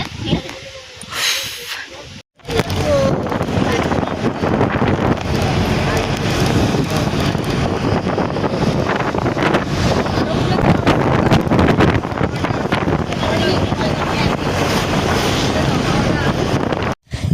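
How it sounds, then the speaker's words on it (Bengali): Cold wind blows in rainy weather across the Meghalaya hills, roaring steadily and buffeting the microphone for most of the clip after a brief quieter start, with some talk beneath it. "এত লেভেলের ঠান্ডার হাওয়া দিচ্ছে"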